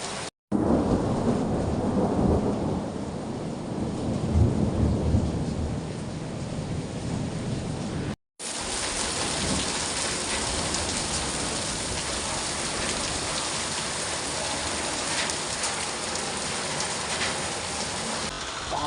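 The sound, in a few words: heavy monsoon rain with thunder in Uttarakhand hills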